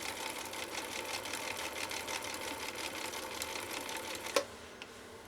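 A 1960s Husqvarna Viking 6440 sewing machine stitches in a fast, steady whirring rhythm, then stops with a sharp click and a softer knock near the end.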